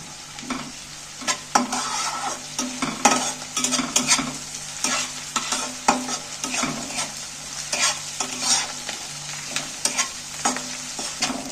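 Ginger garlic paste stirred and fried with onions in hot oil while making egg paneer, a steady sizzle broken by repeated scraping stirs of a spoon in the pan, close and alone.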